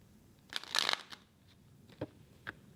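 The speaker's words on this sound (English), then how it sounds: "One more shuffle." A short burst of tarot card shuffling, a quick riffle followed by a few soft taps and flicks, close and fairly quiet.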